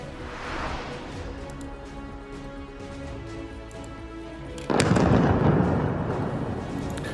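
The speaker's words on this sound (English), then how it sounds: "Explosions in the Lebanese capital overnight." A loud, deep explosion in Beirut erupts midway through a low rumbling background, its boom lingering and slowly fading for a couple of seconds.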